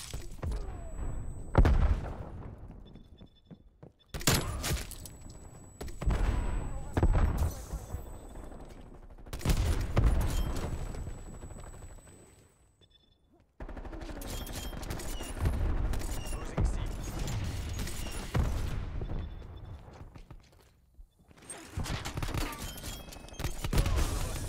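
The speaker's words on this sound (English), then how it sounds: "War machine pressing fire." War Machine grenade launcher firing in Call of Duty: Cold War, heard as repeated heavy bursts of loud, booming fire separated by brief near-silent gaps, with game audio and some voice cues between volleys.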